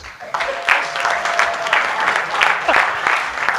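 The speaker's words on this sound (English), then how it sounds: "Can we clap for top management?" Audience at a pre-Games sports symposium and heads of delegation meeting applauds top management, a dense, steady wash of clapping that holds for several seconds at moderate volume with a faint murmur of voices underneath.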